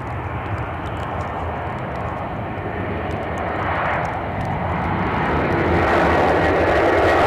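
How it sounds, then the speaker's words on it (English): An EasyJet airliner on approach to Edinburgh airport in gusty, wet crosswind conditions, a steady broad engine roar that grows louder toward the end as the jet nears, heard alone without talk. "See the inbound EasyJet."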